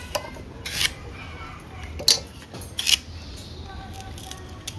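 Water taro (kochu) stems being cut, several sharp snipping slices spaced about a second apart over a low steady background.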